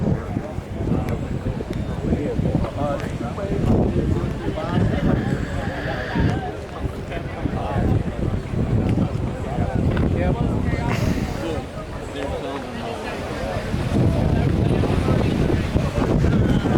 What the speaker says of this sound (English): if you're hearing the wind, I do apologize. It is windy today.